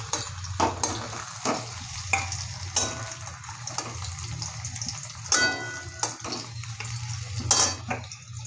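Fried paneer lifted from sizzling oil in a home kitchen while cooking paneer matar, with steady frying sizzle under repeated scrapes and clinks of a metal spatula against the pan.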